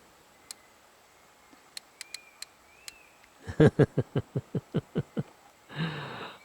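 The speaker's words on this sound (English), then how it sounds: "I can see you got your hand on there making it click, Steve." A fishing reel's ratchet is worked by hand on a river beach along the Essequibo. A few scattered ticks come first, then a rapid run of about ten sharp, close clicks, followed by a brief rough burst.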